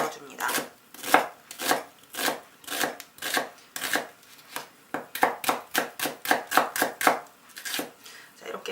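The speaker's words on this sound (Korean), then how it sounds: "양파가 동그라니까 생긴 모양대로 굴려가면서 채를 썰어줍니다" A knife slices an onion into thin strips on a cutting board, rolling it as it goes: a fast, regular series of crisp close chops in quick bursts, with no talking.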